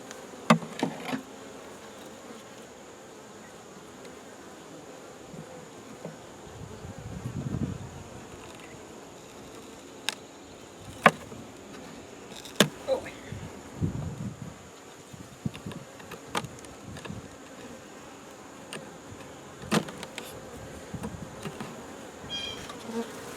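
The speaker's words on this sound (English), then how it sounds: "Here got some bees in it" Bees buzzing steadily in a hive being readied for cold weather, a continuous near drone with occasional sharp clicks and knocks from handling.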